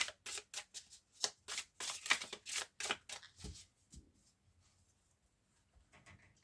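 A tarot card deck being cut and shuffled up close, a quick run of crisp riffling card slaps over about three seconds, then quieter handling before near silence.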